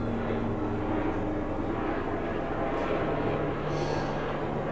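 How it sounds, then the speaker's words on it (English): A helicopter flying overhead makes a steady, loud rotor and engine rumble that holds throughout, with no break or voice over it. "Token helicopter every time,"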